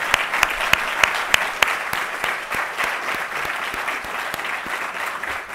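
An audience at an awards ceremony breaks into a steady round of applause, dense overlapping claps with a few crisp, close hand strikes punctuating the wash, sustained and even for several seconds.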